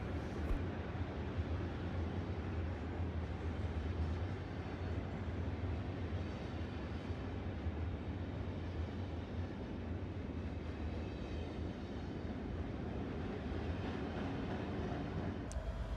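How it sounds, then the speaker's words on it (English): A rail train travelling toward Ringwood for level crossing removal works at Ringwood East, Croydon and Bedford Road, heard as a steady, distant, low rumble that holds constant throughout. "a rail train heading to Ringwood as part of the LXRA works at Ringwood East, Croydon and Bedford Road"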